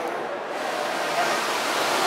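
Steady broadband rush of flowing water fills an indoor water park at a Denver, Colorado resort, a constant, even wash of sound with no distinct events.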